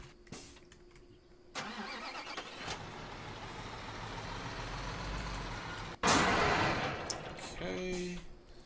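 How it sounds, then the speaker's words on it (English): A truck in Construction Simulator 2015 rumbles as its engine runs and moves, a steady mid-pitched drone that surges louder near the end with hissing, air-brake-like bursts. "I need to move the truck again."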